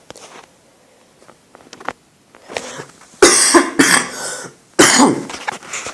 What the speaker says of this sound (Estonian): Vabandust, jälle mulle köha.